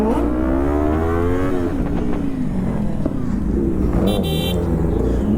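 Kawasaki ZX10R sport motorcycles fitted with loud full-system exhausts roar continuously at close range, the engine note rising and falling, with a brief horn-like toot near the end and a voice talking over it.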